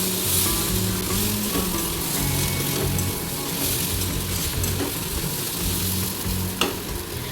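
Loitka dried fish and potatoes fry in a kadai with a loud, continuous sizzle, close up, while being stirred, with a low rumbling hum beneath and an occasional light clink of the spoon.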